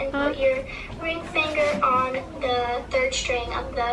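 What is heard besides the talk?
None of the usual background noises is heard.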